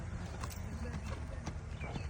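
A horse ridden by a boy gives soft, steady hoof clip-clops that sit low under continuous background noise and a talking voice.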